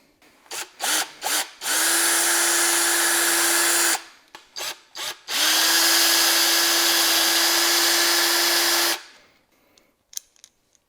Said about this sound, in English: I'm just gonna drill out the holes from my suction mounts